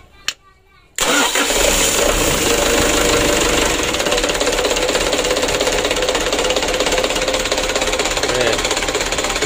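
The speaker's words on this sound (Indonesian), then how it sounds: "Ini tali gasnya kita lepas dan kita starter dulu." A motorcycle engine choked with jelly-like oil sludge is cranked with its electric starter: after a brief quiet moment a loud, steady mechanical whirring and knocking sets in and carries on without letup.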